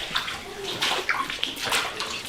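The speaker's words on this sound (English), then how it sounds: "we're walking on like 2 inches of water right now" Footsteps sloshing through about two inches of standing water in an abandoned office area of a large old mill in Massachusetts: repeated splashy, gurgling steps and water disturbance, fairly close, with irregular rhythm.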